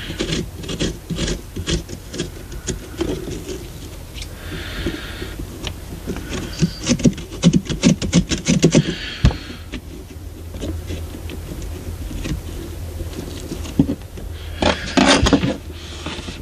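Continuous soft, close scraping on the inside wall of a carved Halloween jack-o'-lantern pumpkin, a dry rasping rub in steady strokes that come in bursts and pause, gentle and unhurried.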